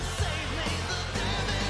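A short burst of loud, dense metal music with distorted guitars and heavy low-end drumming, playing continuously at full level with no voices.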